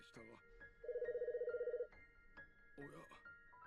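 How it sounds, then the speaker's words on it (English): Retro-style electronic telephone ring from the Famicom Detective Club: The Missing Heir game, a rapid warbling burst of about one second between stretches of talk. "Ah, there goes the phone."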